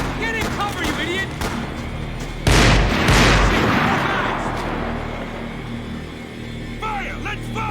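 Gunfire and explosive booms ring out in the video game Max Payne 3, a heavy blast mid-clip with scattered shots around it, under shouted voices and game background noise.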